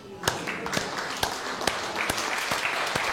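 A church congregation applauding together, a steady wash of many hands clapping with a few louder claps standing out, and a voice heard over it.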